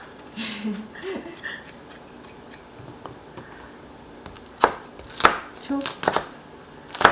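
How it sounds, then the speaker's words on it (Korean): Garlic coarsely chopped with a knife for a tofu doenjang stew: a few sparse, irregular knocks early, then a tighter cluster of sharper chops near the end over a quiet kitchen background. "굵직굵직하게 다지세요"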